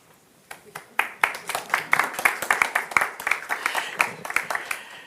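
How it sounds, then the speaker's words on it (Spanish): Audience applause at a Spanish-language business and neurodiversity radio event, starting sparse after half a second and building into steady, fairly close clapping for several seconds. "Este aplauso es para vosotros"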